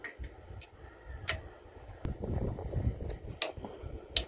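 A torque wrench clicks several times, sharp and close, while engine bolts are tightened to 120 inch-pounds during an engine rebuild, irregular clicks over faint scraping and handling noise.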